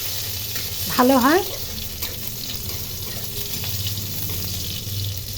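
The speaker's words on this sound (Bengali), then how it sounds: "এগুলো একটু ভেজে নেব।" Panch phoron, green chillies and garlic cloves fry in hot oil for dal, a steady hiss and spatter running beneath a brief spoken remark.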